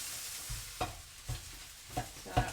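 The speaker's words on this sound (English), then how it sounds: "keeping on frying the onions, but now I'm coating all the pieces of rice with the oil" Cold leftover rice and onions frying in oil for nasi goreng, with a soft steady sizzle under several sharp scraping stirs of the pan at roughly half-second intervals, quiet and close, no talk.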